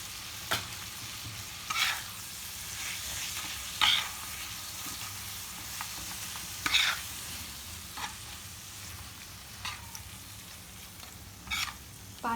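Liver and gizzard with dried coconut paste cooking on a low flame, a quiet steady sizzle with occasional spoon scrapes and stirs, close and without talk.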